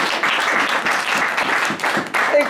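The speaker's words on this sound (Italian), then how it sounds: "Un applauso alla mamma" Applause from family and guests at a 107th birthday celebration in Mussomeli, a loud continuous clatter of many hands clapping nearby, holding steady throughout.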